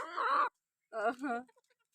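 Village hens cluck close by in two short bursts, separated by a brief silence, with no other sound around them.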